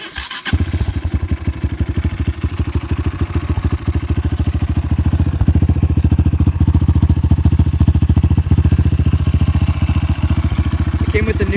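Honda CRF230F dirt bike with a high-compression rebuilt engine cranks over and fires up, then runs steadily at a loud, close, fast-pulsing idle that holds for about eleven seconds.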